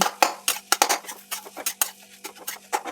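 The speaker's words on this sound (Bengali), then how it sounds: "দিয়ে ভালো মতো একটু নেড়ে চেড়ে মিশিয়ে নেব" Grated boiled potato being stirred into frying vegetables in a pan for vegetable cutlets, a quick run of sharp metal spoon clinks and scrapes against the pan, close and distinct, with no talk.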